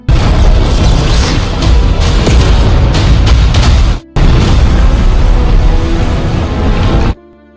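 A burst of green fire explodes in an animated fight scene, a loud, dense roaring blast that rumbles for several seconds, breaks briefly, then surges again before stopping sharply.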